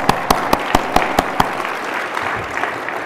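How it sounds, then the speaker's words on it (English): Audience at a defense, security and sensing conference breaking into loud, dense applause, with strong rhythmic claps close by in the first half before settling into a steadier, softer clapping. "how about a round of applause for her?"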